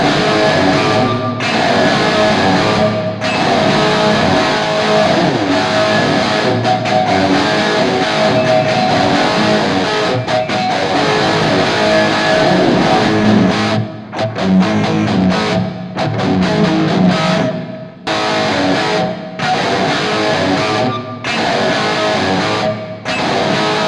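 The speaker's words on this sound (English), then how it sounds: "And we're just going to listen to the reverb." Reverb effect played back through a JBL speaker: loud, dense processed sound with a washy tail, broken by brief drops into near silence at irregular points.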